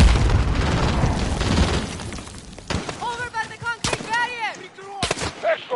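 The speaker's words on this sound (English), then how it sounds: "I think they threw a grenade" A grenade blast in the Call of Duty Modern Warfare campaign hits with a loud broadband boom, then sharp shatters and ringing metallic debris follow in bursts.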